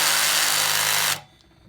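A power drill drives a rack screw with its clutch set to the lowest setting, whirring loudly and steadily for about a second before cutting off abruptly into quiet.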